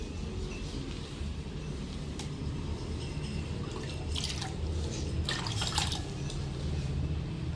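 Hair being rinsed with water in a salon-style washing demonstration, heard as continuous close splashing and pouring with dripping and brief gurgling bursts, with no speech.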